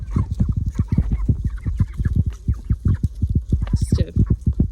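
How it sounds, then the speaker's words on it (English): A flock of chickens out of their pen on a homestead clucks in dense, rapid rhythmic bursts close by, with a few louder squawks layered in and no human talk. "squad of chickens."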